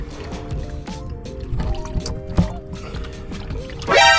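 Engine oil drains from a Kia K5 during an oil change, a steady close trickle and dripping of liquid into a pan, with small clinks and a louder rush at the end.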